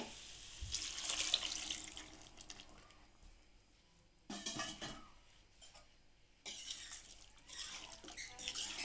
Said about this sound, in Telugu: ఇప్పుడు ఇందులో ఇందాక చికెన్ ఉడకబెట్టుకున్నాం కదండి ఈ వాటర్ ఇందులో వేసుకుందాము